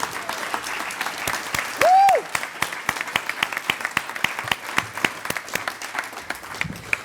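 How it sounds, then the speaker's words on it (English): A small club audience at a monthly meeting claps for two program presenters, sparse distinct handclaps at a steady pace, with a short whoop or tone near the start. "I would like a really big round of applause for both Rebecca and Stacy"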